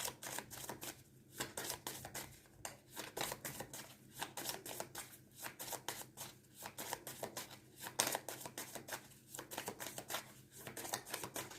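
Oracle cards shuffled and handled in repeated soft riffling bursts, fairly close and quiet, with no talking over them.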